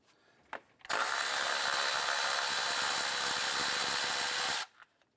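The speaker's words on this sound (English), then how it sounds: "Using a 10mm socket or Phillips head screwdriver, go ahead and remove this intake hose clamp." A 10mm socket drive loosens the intake hose clamp on a 2000-2006 Toyota Tundra: a light click, then a loud, continuous mechanical whirring burst of about four seconds that stops abruptly.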